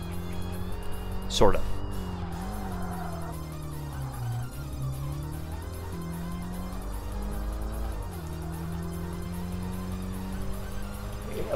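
A Honda CRX races downhill in Tokyo Xtreme Racer Drift 2, its engine droning steadily with shifting pitch and a brief sharp squeal early on, while a person talks over it.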